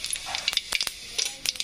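Mustard seeds crackle and sizzle in hot oil in a kadai for potato bhaji, with a quick run of sharp, close pops and spits over a soft frying hiss.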